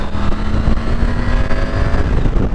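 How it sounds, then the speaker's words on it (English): A 2023 Triumph Tiger 900 motorcycle pulls hard to overtake on the road, a loud, steady engine drone with wind rush throughout. "Plenty of power for an overtake"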